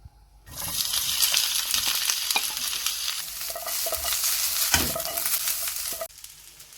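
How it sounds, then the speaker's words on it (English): Onions frying in hot oil in a pan for a burger topping, a steady loud sizzle with stirring scrapes, starting abruptly after a brief quiet moment and dropping off near the end. "Heat up some oil in a pan and add the onions"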